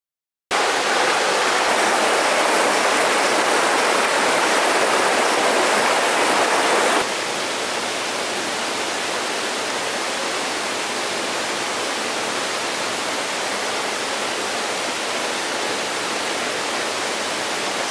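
Rushing water at a river waterfall in Jamaica, a loud, steady broadband roar filling the whole clip, slightly louder and brighter in the first seven seconds before settling into an even continuous rush.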